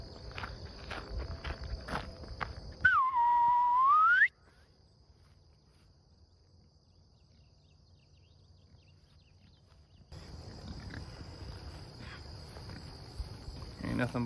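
A single drawn-out human whistle to move cattle on a ranch, rising and falling, rings out over outdoor crickets and ambient rustling, followed by quieter stretches of open-air background.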